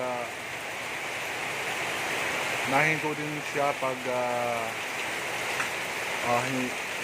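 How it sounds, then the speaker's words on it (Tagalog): Continuous rain in the Philippines keeps up a steady hiss throughout while a person talks over it in short bursts, the downpour staying even beneath the voice. "tuloy-tuloy ng ulan."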